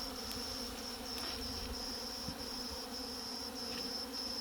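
Honey bees being shaken from a nuc box into a deep frame hive make a continuous, even buzzing hum close by, with faint clicks and knocks scattered through it and no voices.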